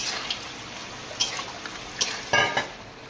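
Crabs are added to a pan of crab curry, with a low background sizzle and several sharp clattering knocks of shell and utensil against the pan.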